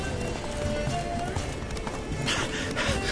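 Hooves of Roach, Geralt's horse in The Witcher 3: Blood and Wine, clop steadily at a gallop, close and fairly loud over a dense game soundscape with a brief whinny-like tone partway through.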